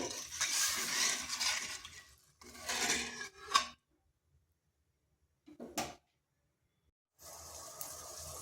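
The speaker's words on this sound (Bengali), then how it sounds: "পরিমাণ মতো হলুদ আর লবণ এগুলো ভালো করে মিশিয়ে নিচ্ছি" Turmeric and salt are stirred into a snack mixture of potato, carrot and semolina, giving bursts of scraping and rubbing against a bowl separated by silent pauses, with a short knock partway through.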